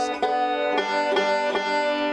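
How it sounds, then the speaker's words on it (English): Banjo notes played with a two-finger pinch technique, a few plucked chords ringing out in sequence, each bright attack sustaining into the next, clear and close with no voices. "that was using 2 fingers at a time and getting notes like this"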